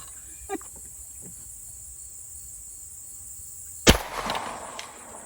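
Single loud gunshot from a CMMG Banshee bolt-action pistol chambered in 300 Blackout, a sharp crack near the four-second mark with a short outdoor decay, preceded by quiet ambience and a faint click.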